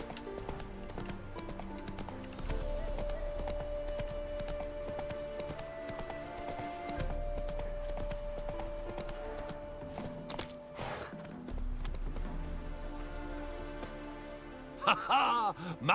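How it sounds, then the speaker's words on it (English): Hooves of Geralt's horse Roach clip-clop in a steady galloping rhythm through The Witcher game world, running over a bed of music with a brief whinny-like burst near the end. "Whoa there, Roach."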